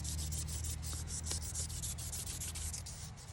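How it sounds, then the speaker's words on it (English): A cable Damascus steel knife blade is rubbed down with 1500 grit sandpaper, giving a soft, steady back-and-forth scratching hiss in quick repeated strokes, close and faint, with no voice. "rub it down with the 1500 grit sandpaper"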